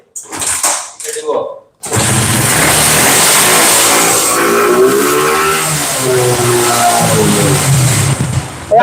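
A brief rustle and bump, then a motorcycle engine starts and revs loudly and continuously nearby, its pitch rising and falling as the throttle is worked.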